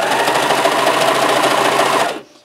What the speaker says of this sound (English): You can do just a regular stitch to get them together.